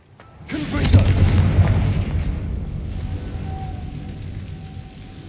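A Confringo fire spell in the Hogwarts Legacy video game erupts in a loud, deep booming blast that rolls on and slowly fades, followed by a faint tonal hum.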